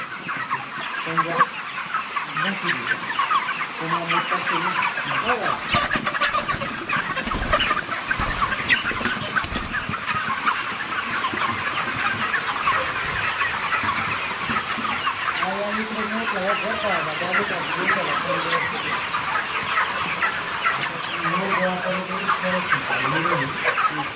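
Chickens clucking repeatedly in a busy flock, near and fairly loud, with a burst of rustling flapping midway and some voices faintly in the background.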